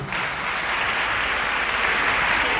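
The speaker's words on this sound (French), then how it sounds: "Applaudis mon Dieu." A church congregation at a praise and worship service applauds in a loud, dense, unbroken roar of clapping that holds steady throughout.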